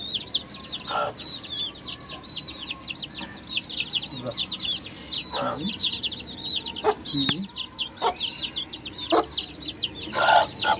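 Chicks peep continuously in a high, busy chatter while hens cluck now and then close by, with a few louder squawks breaking through.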